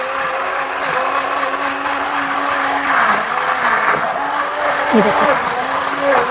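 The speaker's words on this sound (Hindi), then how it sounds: "ये देखो इस तरह से हैंड ब्लेंडर को अंदर रखेंगे और इस तरह से बटन दबा देंगे।" A hand blender whips milk, custard powder and sugar for homemade vanilla ice cream with a continuous close motor whir, while someone talks over it.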